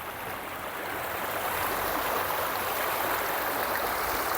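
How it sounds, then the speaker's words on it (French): A stream flowing close by beside green space in Najac, a steady, full rushing of water that continues without pause and is heard alone. "J'adore le bruit de l'eau."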